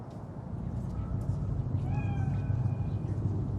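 A cat meows in the video game Cyberpunk 2077, a short, fairly faint call set against a dense, steady ambient background rumble.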